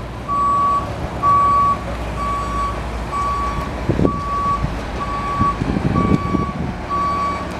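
A Snap-on tool truck backing up sounds a steady series of loud reversing beeps, evenly spaced, over a low diesel engine rumble, with some thumps and clatter midway.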